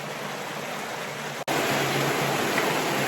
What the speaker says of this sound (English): I don't know if you can hear me, it's really loud. But that's where the water comes out.